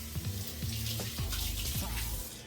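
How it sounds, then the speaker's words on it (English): A kitchen faucet runs while hands are rinsed under it, a soft, fairly quiet splashing stream broken by several short gurgles and shifts as the hands move through the water. "Let me rinse my hands again."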